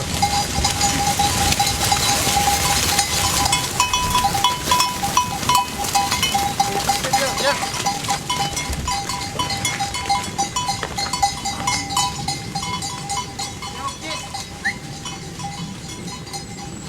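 Goats and ewes on a farm during lambing season call in a steady, busy chorus of overlapping bleats, with a constant tonal hum and clanking underneath, fairly loud and close throughout.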